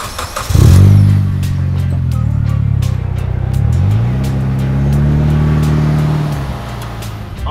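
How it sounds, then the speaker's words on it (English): A 2008 Mitsubishi Lancer Evolution GSR accelerates hard from inside the cabin, its engine roaring loud and close and climbing in pitch, then dropping at a gear change before climbing again. "we're gonna show you how this car can shift through the gears seamlessly"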